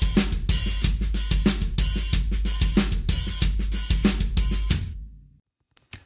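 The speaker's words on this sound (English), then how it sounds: "We can take that pattern and open the hi-hats on all the ands, resulting in a funky disco style pattern." Funky disco-style drum groove with open hi-hats on the offbeat ands over a steady kick and snare, loud and close, ending with a decaying ring and then near silence, no talking.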